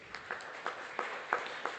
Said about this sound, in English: a huge round of applause for all our awardees